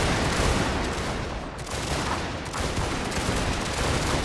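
Troops in a strategy video game firing massed guns, a dense continuous roar of musketry and gunfire with heavy overlapping volleys and no speech.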